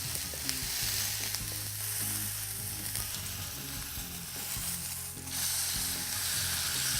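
Meat with its fat side pressed onto a griddle pan over medium-high heat sizzles steadily and loudly throughout, a close, continuous fry with no talking.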